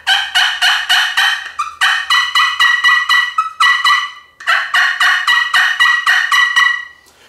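A hunter's voice imitates a young wild turkey with rapid series of high-pitched, yelping calls, loud and close, in three quick bursts with short pauses between them.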